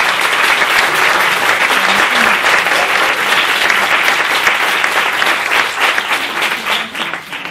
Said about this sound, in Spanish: pido a todo el auditorio un aplauso